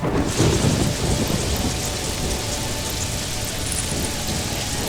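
Heavy rain pours steadily in an animated story, a loud, dense hiss of drops on surfaces with a low rumble of thunder rolling under it near the start, continuing without voices.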